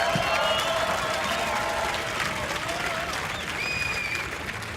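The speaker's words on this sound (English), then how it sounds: "Keep cheering, this is exciting!" At a cosplay contest, a crowd claps and cheers steadily for the first-place winner, a dense, sustained wash of applause with a few whistles and high shouts rising above it.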